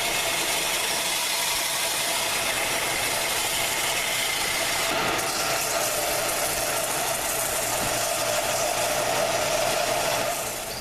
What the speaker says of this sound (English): We're going to sand it down.